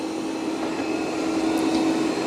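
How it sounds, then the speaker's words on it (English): An iRobot Roomba 105 robot vacuum with LiDAR navigation works across a carpet, giving a steady, even whirring drone with faint higher whines, close by and with no talk. "let's see how the Roomba 105 is going to vacuum up this carpet."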